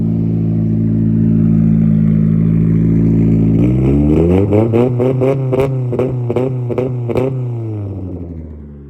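A turbocharged car engine revs hard and loud, its pitch rising, then the turbo blow-off lets out a rapid series of sharp fluttering bursts as the revs fall away.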